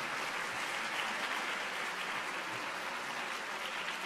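Steady, moderately distant applause from an audience at a diocesan assembly of catechists, even clapping throughout with no voices.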